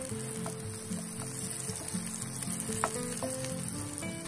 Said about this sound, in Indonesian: Panaskan sedikit minyak goreng, kemudian kita tumis bawang merah yang sudah diiris, kira-kira 5 siung.